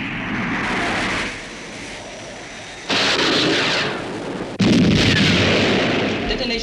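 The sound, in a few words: missile firing and detonation sound effect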